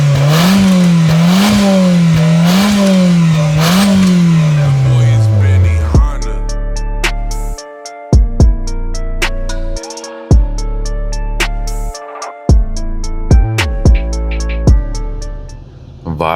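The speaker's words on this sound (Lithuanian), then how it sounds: "Dabar pagazuok mediją, todėl kad šitas automobilis skamba labai kietai." A car engine revs in steady waves for several seconds, loud and close, before giving way to sparse rhythmic pulses.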